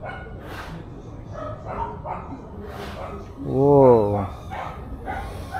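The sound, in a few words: dogs barking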